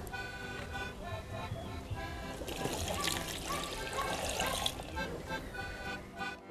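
A liter of water poured while preparing an organic fungicide from crushed papaya leaves, a steady splashing trickle over a few seconds with speech nearby.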